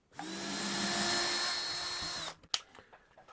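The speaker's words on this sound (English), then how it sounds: "So I'm going to do this using an ordinary drill, and I will be very careful." An ordinary electric drill whirs at high speed through wood for about two seconds, then spins down and stops, followed by a few light clunks.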